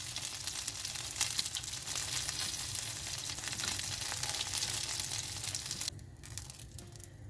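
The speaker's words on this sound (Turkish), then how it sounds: "Mantarlarım ocakta kızarmaya devam ediyor" Mushrooms frying in a pan on the stove, a steady close hiss and crackle of sizzling oil with some stirring scrapes, fading lower near the end.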